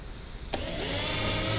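A power drill starts up and bores a 5/16 inch hole through a rudder bracket on a Santa Cruz boat, a sudden close, loud whirring motor that holds steady after a brief lead-in.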